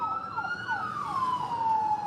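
Emergency sirens wail outside a national courthouse under heavy police guard with ambulances parked nearby, a steady rising and falling tone sweeping continuously at moderate distance with road traffic underneath.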